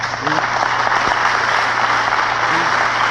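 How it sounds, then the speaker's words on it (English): An audience at a political speech bursts into sustained clapping, a dense and loud wash of applause that holds steady throughout. "But you shouldn't clap for that"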